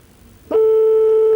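A television game-show telephone tone starts abruptly and holds steady, a loud continuous electronic ring with no voices.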